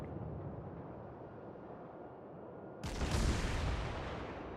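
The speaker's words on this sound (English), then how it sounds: "I'll shoot at the Nuremberg" Main battery guns of the British battleship Warspite firing in World of Warships, a heavy booming blast that erupts partway through over a low rumbling background and then trails off in a long roaring decay.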